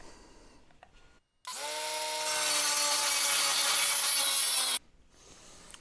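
A saw chops through the backing plate for an old air conditioner being fitted in a shed, with one loud, steady, whining cut lasting about three seconds that starts and stops abruptly.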